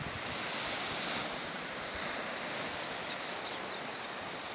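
Sea waves washing onto the shore at Covehithe around sunrise, a steady, dense wash of surf close by with wind buffeting the microphone, continuous and loud with no voices.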